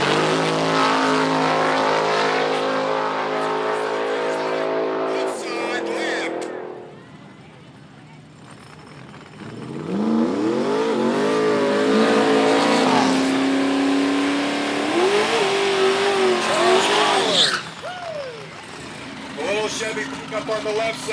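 The Mississippi Queen car, running with boost on a dyno for its first pass, gives a loud engine roar that drops away, then climbs in repeated revving sweeps. Voices and crowd noise sit under the engine.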